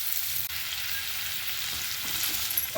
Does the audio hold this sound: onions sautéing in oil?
yes